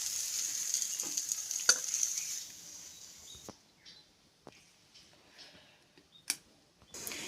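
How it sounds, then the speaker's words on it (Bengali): Bean mash being stirred in a wok over high heat gives a loud hiss and sizzle with scraping strokes for the first few seconds, then fades to quieter scattered clicks and taps. "আঁচটাকে বাড়িয়ে নিয়ে এইভাবে নাড়াচাড়া করে নিলে মোটামুটি সিম ভর্তাটা রেডি হয়ে যাবে"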